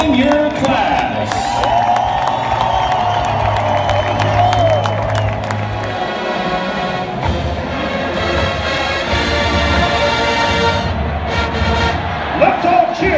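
A stadium crowd at a 2019 Sun Devil Football game against Arizona cheers for the senior class, a loud continuous roar with clapping and whoops blended with amplified announcements booming over the noise.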